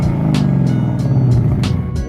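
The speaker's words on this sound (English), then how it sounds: "Give her a little rev" A Ford Mustang Mach 1 fitted with a new exhaust revs loudly up close, a deep rumbling engine note swelling and falling through several throttle blips over steady idle.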